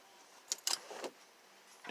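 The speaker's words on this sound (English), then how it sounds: "Taking keys out car." Car keys pulled from the ignition of a parked car, a few short metallic jingles and clicks close by in a quiet interior, followed by a louder rustle at the end.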